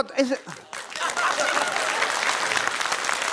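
A seated audience at a motivational talk on income bursts into applause after a brief voice, the clapping rising quickly to a dense, steady, fairly loud roar that carries on to the end.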